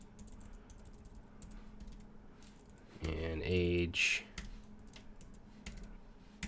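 Clicks of computer-keyboard typing while someone talks, as code for a Python dictionary lesson is entered; light, close key taps run beneath the speech.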